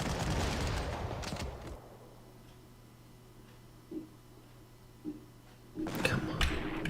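Artillery fire in a war video game: heavy bursts boom at the start and again at the end, with a couple of faint distant thuds in the quieter stretch between.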